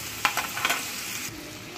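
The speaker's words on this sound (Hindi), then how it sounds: "प्याज को अच्छे से ब्राउन होने तक हम भून लेंगे, थोड़ी सी हरी मिर्च ऐड कर दी मैंने।" Onions and green chillies frying in a pan for okra curry, with a steady close sizzle and a few sharp stirring clinks and scrapes early on, then continuous frying hiss.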